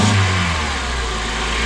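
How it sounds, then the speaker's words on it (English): A 2008 Honda Element engine is revved hard while accelerating during a motor mount check, a loud close roar that peaks at the start and then holds high and steady, with no talking. "And then go ahead and accelerate, Tim."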